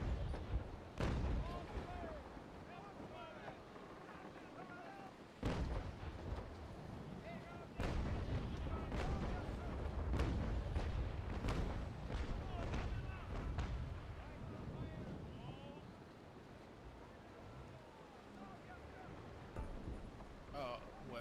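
Ship cannons fire in the Naval Action game, a run of booming shots and rumbling blasts at irregular intervals over constant sea and battle noise, with people talking throughout.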